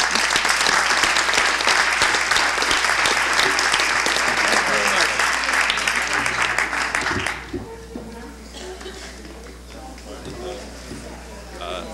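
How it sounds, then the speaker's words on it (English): An audience at a talk on agrarian protest bursts into loud, sustained clapping that runs for about seven seconds, then drops away to quieter room noise with voices. "I think we should all clap for her"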